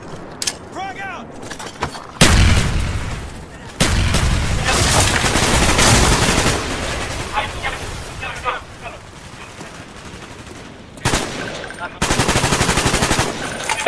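A frag grenade blast and heavy gunfire in a team-based shooter match, with loud sustained bursts and explosive thuds filling most of the stretch, broken by brief gaps and short lulls, as players talk over the action.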